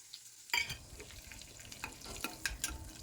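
Mustard seeds, cumin, chana dal, garlic and cut dried red chillies hit hot oil for a tempering, bursting into a loud, steady sizzle after a brief silence, with crackles and stirring clinks close by.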